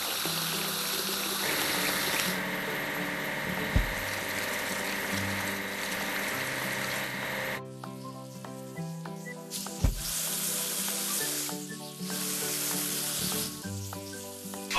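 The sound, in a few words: water spraying while washing a log loader, from a video game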